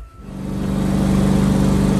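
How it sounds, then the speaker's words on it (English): A tractor engine starting up and revving, a close, steady mechanical drone that builds in the first moment and then holds even. "So I'm gonna go get the tractor, which is up there, and bring it down."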